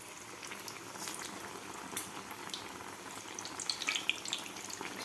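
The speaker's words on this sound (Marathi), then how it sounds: "व्यवस्थित दोन्ही साईडकडून आपल्याला हे तळून घ्यायचं आहे" Masala toast fries in a pan with a steady, faint bubbling sizzle of hot oil that continues evenly throughout, with a few soft crackles and no talking.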